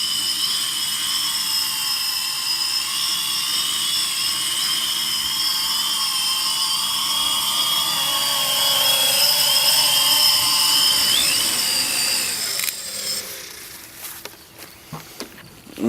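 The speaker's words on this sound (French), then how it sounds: "avec deux hélices cassées et le GPS hold enclenché, il est possible de conserver l'engin en vol" An octocopter drone with two broken propellers hovers in GPS hold, its rotors giving a loud, steady multi-toned whine that wavers slightly in pitch before cutting off near the end, followed by a few scattered knocks.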